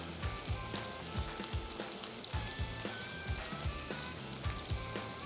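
Finely chopped garlic sizzling in olive oil, a close, continuous bright hiss of frying with a faint rhythmic underlying pulse, steady throughout and unaccompanied by speech.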